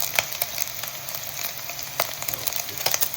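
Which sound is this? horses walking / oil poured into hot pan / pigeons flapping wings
oil poured into hot pan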